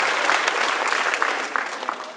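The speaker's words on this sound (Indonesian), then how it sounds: "tepuk tangan." Audience applause at an Indonesian Jeunesse business presentation, a brisk wash of many hands clapping at once, fairly loud and continuous for a couple of seconds.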